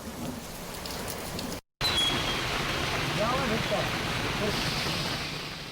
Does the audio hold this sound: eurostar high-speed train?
no